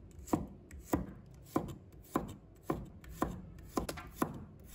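A knife slices garlic on a cutting board in about nine distinct, evenly spaced chops, each a crisp close thud with a short tail, with no voices.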